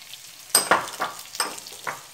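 Picadillo ground meat frying in a pan, a soft close sizzle punctuated by several short bursts of crackle as it is stirred.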